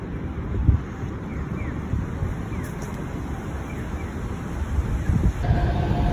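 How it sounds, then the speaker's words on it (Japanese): Monorail train passing in Chiba, heard outdoors as a steady low rumble under wind noise, holding the same level throughout with a brief swell near the end; no talk is heard. "皆さん、あれがモノレールです。"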